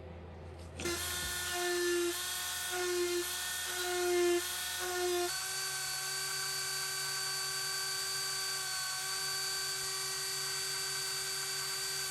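A small rotary tool lightly scoring a wooden wand, its high steady whine with a pulsing pitch early on, then settling into an even drone, close and continuous with no talk.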